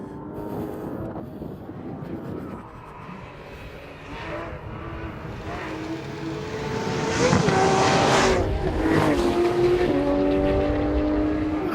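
Porsche sports car, a Cayman GT4 or 911 GT3 RS, driven hard on a race track, with a steady engine roar that builds and rises in pitch through the gears as it accelerates, close and loud with no talk.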